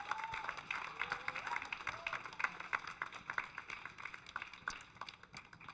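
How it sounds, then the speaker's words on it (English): An audience claps for student debaters and parents at a high school constitutional debate evening, a faint, scattered patter of hands heard from a distance with some voices underneath. "Let's give our debaters and you another round of applause."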